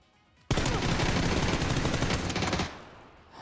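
Rapid automatic gunfire with heavy recoil in a shooter game: a sudden, dense burst of shots that starts abruptly, holds loud and continuous for about two seconds, then cuts off and trails into quiet.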